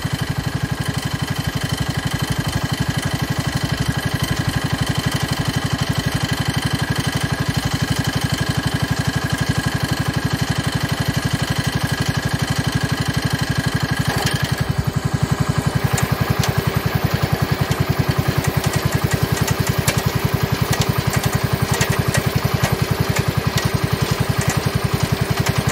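Small gasoline engine of a 1970 John Deere 140 H3 garden tractor running steadily with a tiller attached, a loud continuous drone that shifts in tone partway through as the load changes, with no talk.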